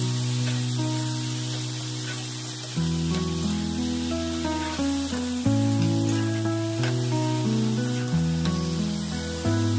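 Boiled, squeezed cabbage drops into a pan of frying potatoes and sizzles in a continuous hiss. Steady background music plays underneath.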